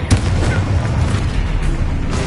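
A booming blast from the Confringo fire spell in the video game Hogwarts Legacy, a loud, close explosive thump with a rumbling low tail and crackling burst.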